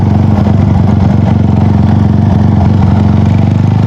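A Sniper 150 V1 motorcycle with a 70mm big-bore block and 6-speed manual conversion revs loudly up close, a steady throbbing engine drone with a clattery edge.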